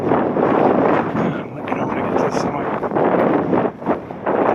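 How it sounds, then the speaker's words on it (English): Gusty wind on a Scottish hillside in mid-March buffets the microphone with a loud, rough roar that swells and eases throughout, while a walker speaks over it. "It's a bit windy today."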